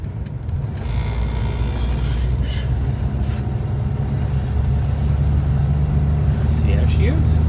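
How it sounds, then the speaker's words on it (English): Low, rumbling engine drone of a 1954 Chevrolet driving, steady and close, with some faint rattles and clicks over it. "Right, back in action here, out for a test drive."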